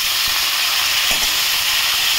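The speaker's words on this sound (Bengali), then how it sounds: "তো আলুটা মোটামুটি ভাজা হয়ে গেছে, এবার আমি এঁচোড়টাও দিয়ে দিলাম সাথে।" Young, freshly picked jackfruit pieces go into a pan of frying potatoes, producing a loud, dense, continuous sizzle with a few faint stirring knocks beneath.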